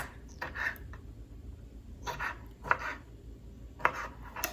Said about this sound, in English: So I'll just chop the olives.